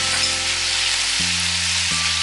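Chopped pepper, onion and garlic frying in a pan, a steady loud sizzle with a low hum running beneath, continuous for the whole stretch with no voices.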